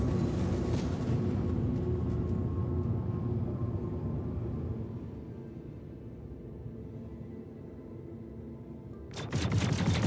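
Ship cannons on a Vanguard Warden fighter fire in a space combat game during a bounty hunt, a dense, continuous roar of rapid shots that eases slightly midway before sharp new bursts break in near the end.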